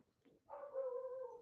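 A dog next door barks once, a single drawn-out, howl-like bark rising after a short quiet pause and holding steady at moderate, slightly distant loudness in a quiet room.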